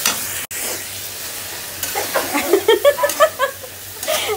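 Spicy vegetable curry with green chillies sizzling in a pan as it is stirred and sautéed, a loud steady hiss broken by rhythmic scraping strokes, with faint laughter nearby.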